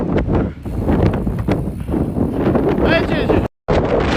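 Strong wind gusts batter a sailboat, roaring and buffeting the microphone in loud, ragged bursts while people talk over the noise.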